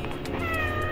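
A ginger-coloured domestic cat of mixed local breed meows close by, a short plaintive call running through the brief moment with no talk over it.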